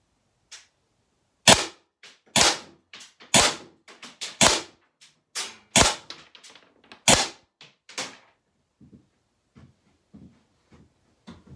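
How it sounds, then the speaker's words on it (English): Six loud, sharp shots from a Byrna SD or Umarex TR50 less-lethal launcher, fired at a moderate pace indoors-style, each crack followed by brief mechanical clatter, with quiet handling clicks trailing off afterward. "that was all 6 shots"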